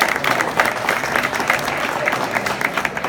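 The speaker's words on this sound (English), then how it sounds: "Give him a round of applause, please." A ceremony audience gives an honoree steady, dense applause, with many hands clapping at close range and no pause throughout.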